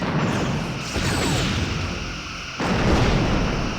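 Torpedoes launched from forward tubes in the Star Trek Bridge Commander space combat game, a dense roaring burst of weapon fire and explosive rumble, loud and sustained, briefly dipping before another heavy blast surges back.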